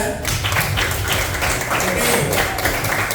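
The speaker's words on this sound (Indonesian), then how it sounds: "Silakan dulu beri tepuk tangan untuk kelompok 3." Students in a fifth-grade primary school class clap together for their group, a brisk, dense burst of applause filling the room, with voices mixed in underneath.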